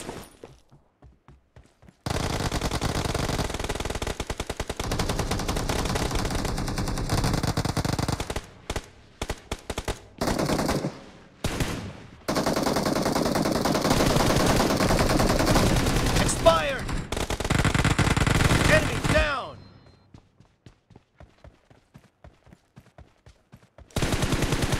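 Gunfire in the mobile shooter BGMI: long sustained bursts of automatic fire, loud and close, with brief pauses and quieter single shots near the start and end.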